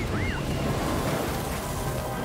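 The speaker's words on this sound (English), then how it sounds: "look at the waves, even" Ocean waves in the Star Wars Jedi Fallen Order video game, a steady wash of surf with wind, heard at moderate level with a faint game tone near the start and no talk.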